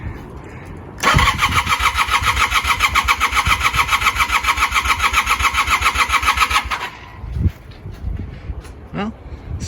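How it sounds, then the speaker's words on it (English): A 1982 Honda CM450 motorcycle's electric starter cranks the engine loudly in a fast, rhythmic whir for about six seconds. It stops abruptly, followed by a few faint clicks and knocks. "Well, starter works."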